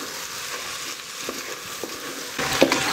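Tomato paste with chili flakes and black pepper frying in a pot for a Turkish vegetable stew, a steady close sizzle with soft scraping stirs and a brief louder spatter near the end.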